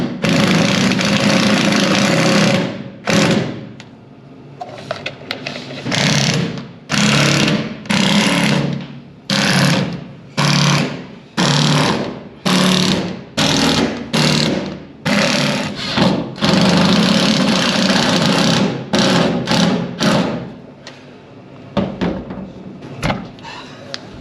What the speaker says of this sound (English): Oh look, I forgot to drill one there.